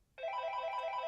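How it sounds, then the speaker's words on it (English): A telephone ringtone cuts in after a brief pause and then rings loudly and steadily, a bright electronic tone that repeats in a regular pulse with no voices over it. "I need to answer this phone."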